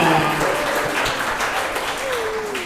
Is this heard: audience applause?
yes